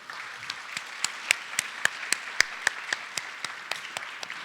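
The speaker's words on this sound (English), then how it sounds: "Let's all give a round of applause for all of the important figures in our lives sitting in this room here today." Graduation audience clapping for parents and family, a sparse scattering of distinct individual claps spread evenly over the moment, fairly faint and without voices.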